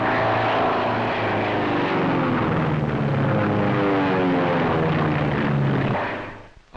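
A steady, loud roar of WWII propeller fighter plane engines droning overhead, holding strong throughout before fading at the very end.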